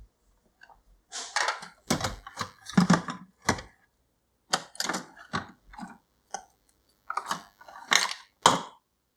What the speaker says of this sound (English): and you can insert any K-cup pod.